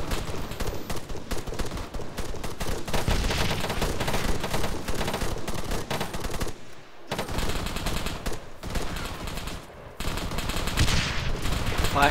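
Gunfire rattles from a hilltop in a tank-and-infantry war video game, dense bursts of machine-gun and rifle fire running almost continuously, with a couple of brief gaps and faint voices underneath.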